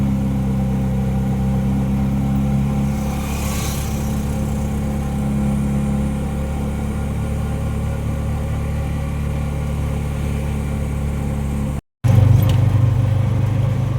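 A loaded auto rickshaw's small engine labours steadily up a hill road, a continuous near, loud drone that holds even throughout before briefly cutting out and resuming.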